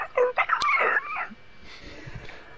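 A dog whimpers in a few short, high, whiny yelps, clear and close, which then fade into quiet background rustle.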